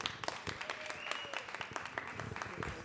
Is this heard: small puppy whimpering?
no